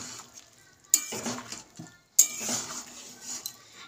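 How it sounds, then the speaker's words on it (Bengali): A metal lid lifts off a pot of boiled potatoes with two sharp clanks, each followed by a short rattle and faint kitchen clatter, close and without talk. "আমি এবার চাপা খুলে দেখে নেব"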